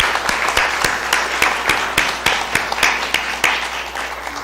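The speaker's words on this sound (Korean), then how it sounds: "일어서서 박수하겠습니다." A church congregation stands and applauds to welcome a new choir member during a Sunday worship service. Steady, moderately loud group applause with distinct individual claps punctuating it runs throughout, with no talking.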